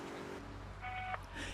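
Phone dialing tones sound as a few short, soft beeps in sequence, faint against a low background hum, with no talk over them.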